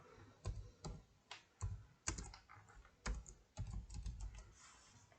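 Typing on a computer keyboard to enter text for image editing, bursts of quick key clicks in uneven clusters with short pauses between, close and clear with no voices.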